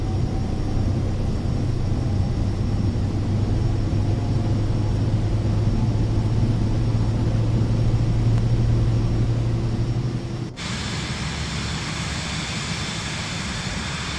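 Steady, loud turbine-engine roar of an airplane accelerating down the runway for takeoff in Microsoft Flight Simulator 2024 on PS5; the engine drone holds evenly, then drops to a thinner rushing hum as the aircraft lifts off.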